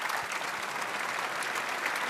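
A studio audience at a Sunday TV variety show applauds Petra, dense steady clapping filling the whole stretch at an even, sustained level with no voices over it.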